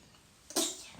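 One quick, breathy sneeze from a child, close and fairly soft, a single sharp burst over a quiet indoor background.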